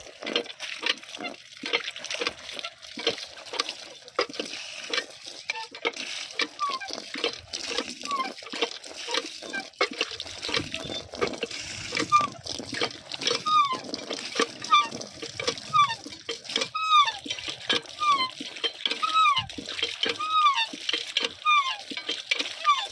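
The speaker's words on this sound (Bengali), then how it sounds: "এবার আমরা সেই পরিষ্কার কলা পাতিতে ধুয়ে নেব।" A banana leaf being washed by hand in water, with steady splashing and sloshing close by and bird calls chirping in the background.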